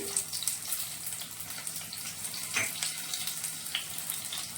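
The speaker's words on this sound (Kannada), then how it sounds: "ಎಣ್ಣೆ ಕಾದಿದೆ ಈರುಳ್ಳಿ ಹಾಕ್ತದನಿ ಸಾಸಿವೆ ಮೆಂತೆ ಹಾಕ್ತದನಿ" Onion, mustard seeds and fenugreek fry in hot oil for a kannada red chutney, a faint crackling sizzle with a few sharper pops and splutters.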